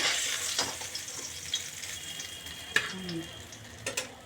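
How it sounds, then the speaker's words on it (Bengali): Fish fries in a hot pan with a close, steady hiss and crackle that continues throughout, broken by a few sharp pops and small clicks. "এখন তো মাছটা ভাজা হবে। মাছটা ভাজা হোক।"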